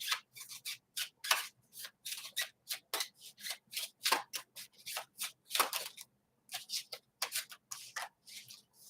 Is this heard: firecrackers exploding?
no